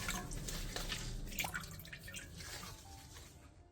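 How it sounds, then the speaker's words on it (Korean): Water dripping and trickling as washed aged kimchi is squeezed out by hand, a close cluster of wet drips and splashes that thins out and fades toward the end. "묵은지의 양념을 물에 깨끗하게 씻어내준 뒤 물기를 최대한 꼭 짜주세요"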